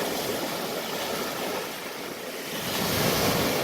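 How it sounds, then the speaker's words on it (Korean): Waves wash steadily onto the shore of the Sea of Galilee, driven by wind, in a continuous rushing surge that swells slightly louder toward the end, with no voices. "갈릴리 호수에 파도가 이렇게 칩니다."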